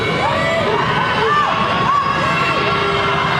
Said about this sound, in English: This crowd is going electric